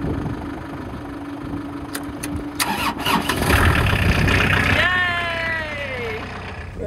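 A tipper truck engine cranks over and catches, loud and close, settling into a steady running idle with a whining pitch sweep at the end.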